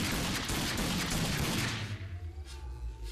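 Loud burst of gunfire from the shooter game Rage, a dense volley of shots that fades into a lingering low rumble and echo over about three seconds.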